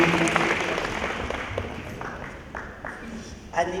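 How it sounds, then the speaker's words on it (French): Applause for a retiring employee at a municipal staff New Year's ceremony in Bouillante: a steady, fairly dense wash of clapping from a gathered crowd that holds for a few seconds, with voices mixed in. "des applaudissements s'il vous plaît pour Annick Gay"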